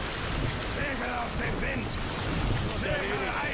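A sailing ship at sea in a video game, with a steady wash of wind and waves and faint creaks and tones underneath, a continuous even roar throughout.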